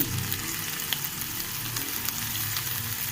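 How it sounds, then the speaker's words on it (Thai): Shrimp heads stir-fry in a pan, a steady, even sizzle with a low background hum running throughout, no talking. "นี้เราผัดหัวกุ้งนะ"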